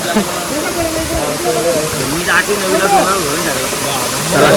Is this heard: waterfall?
yes